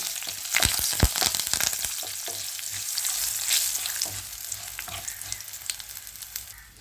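Hot oil sizzles loudly and steadily while a spoon stirs and scrapes the pan of tempering with curry leaves and turmeric, with a few sharp crackles near the start.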